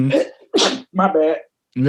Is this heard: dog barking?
no